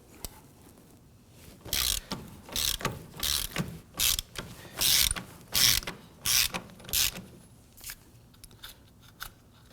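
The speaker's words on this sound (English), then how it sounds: "we're going to switch over to our ratchet." Ratchet loosening a nut on a 2008-2011 Ford Focus rear spindle, about ten rhythmic clicking bursts of the pawl in quick succession, close and clear, with no talk.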